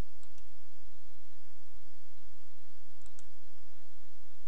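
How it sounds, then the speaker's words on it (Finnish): A computer mouse clicks a few times, faint and close, over a steady background hum with no voices. "Klikkaa kuvalinkkiä"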